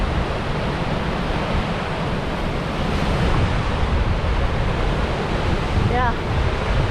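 River rapids at Hermit Rapids rush in a loud, continuous broadband roar, with wind buffeting the microphone throughout and no distinct breaks.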